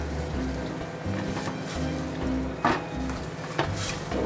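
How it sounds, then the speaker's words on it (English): Marinara sauce with crushed tomatoes simmering in a pan, a soft steady sizzle and bubbling with a couple of brief clinks of a utensil against the pan. "We're going to let this simmer for about 10-15 minutes."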